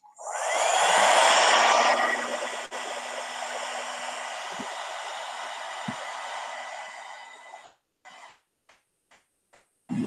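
Heat gun blowing a steady loud roar of hot air over painted leather for about eight seconds, then cutting out, followed by a few faint taps and a short burst as it restarts.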